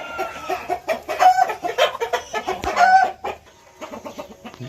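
Several young hens cluck and squawk in a busy, overlapping chorus close by in the evening, with rhythmic bursts and a quieter stretch near the end.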